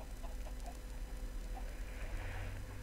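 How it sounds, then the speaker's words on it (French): Minecraft chickens penned in a cage give soft, scattered clucks over a steady low game hum, faint and sparse, with no talking. "c'est des petites poules qui sont dans une cage"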